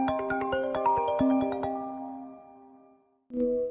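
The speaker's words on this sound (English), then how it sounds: "I received a phone call." A phone rings with an incoming call, playing a melodic chiming ringtone of quick plucked tones that decay and fade, then a fresh burst of the tune starts near the end; clear and close, no talk.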